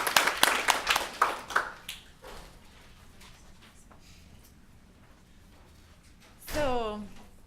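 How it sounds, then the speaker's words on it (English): A few people at an evening art-and-science gathering clap briefly for a speaker, sharp close claps fading within two seconds, followed by quiet room tone and a short spoken moment near the end. "give a big applause to Roberta Rafael"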